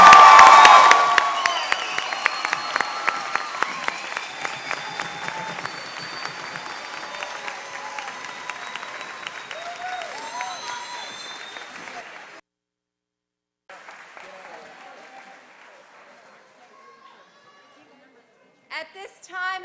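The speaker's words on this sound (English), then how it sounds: "Please give these ladies and gentlemen a well-deserved round of applause," A high school graduation crowd in a gym gives the graduates a standing ovation, loud sustained clapping and cheers that thin out, pause, then resume briefly with some chatter.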